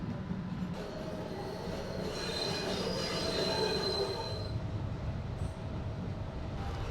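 A light rail train rolls along the tracks with a steady rumble, and metallic wheel squeals rise and fade in the middle.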